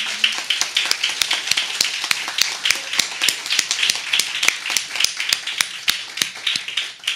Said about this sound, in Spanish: yo quiero darle un aplauso a Meira del Mar hoy en La Cueva